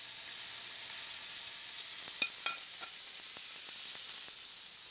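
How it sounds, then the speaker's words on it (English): Steady high hiss of rib eye steaks sizzling on a hot grill, with scattered small pops and crackles, fairly quiet and continuous. "And wait for that sizzle."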